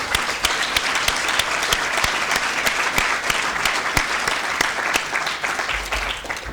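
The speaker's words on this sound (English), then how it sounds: "So can we give Catherine and Deborah a round of applause, please?" A room full of people applauds at a student union excellence awards ceremony, steady dense clapping with sharp individual claps standing out, continuous and fairly loud throughout with no voices over it.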